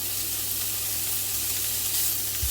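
Two chopped rashers of bacon sizzle steadily in a pan while cooking beef bourguignon, a continuous close frying hiss with no talk.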